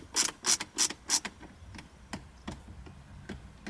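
A screw is turned out of a Subaru WRX STi center console, giving a run of sharp ratcheting clicks. Four loud, evenly spaced clicks come first, then fainter, scattered ticks follow.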